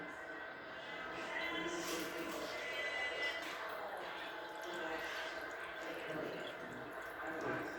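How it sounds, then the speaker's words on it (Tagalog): Water refilling a toilet tank during a flush repair, a steady rushing and trickling fill with faint drips running continuously throughout, with a voice talking over it. "Patuloy pang pagtaas ng tubig."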